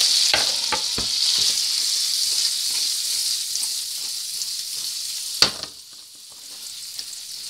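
Mushrooms sauté in a pan with butter, a spoonful of water and lemon juice, giving a steady close sizzle with scattered stirring clicks and one sharp knock partway through, no voices.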